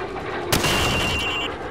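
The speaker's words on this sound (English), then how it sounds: "Shoot each target while aiming down the sights" A single rifle shot rings out at a downrange target in Call of Duty 4: Modern Warfare on a training range, one sharp loud crack followed by a lingering ringing tone and room ambience.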